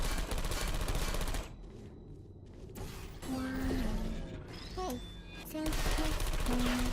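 Portal 2 turrets fire in short mechanical bursts with rattling clicks and creaks, broken by quieter gaps and small electronic beeps, all within a busy game soundscape.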